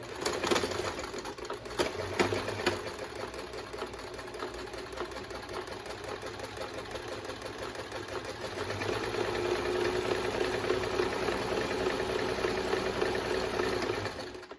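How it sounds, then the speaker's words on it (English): A sewing machine that needs oiling and runs a little rough stitches continuously at close range, a steady mechanical whirring chatter that grows slightly louder and faster in the second half. "I'm going to go ahead and stick this down, and we're going to go ahead and sew."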